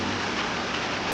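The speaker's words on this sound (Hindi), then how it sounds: "बारिश है ना भाई?" Rain falling during a car ride on a road, a steady dense hiss of drops on the vehicle, brief and even, with no voices.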